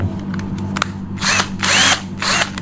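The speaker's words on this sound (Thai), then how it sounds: "อันนี้ ไขควงไฟฟ้า หรือเรียกว่าสว่านไฟฟ้านั่นเอง" An electric screwdriver drill whirs in three short bursts, each lasting under half a second, over a steady low mechanical hum, with faint clicks before them.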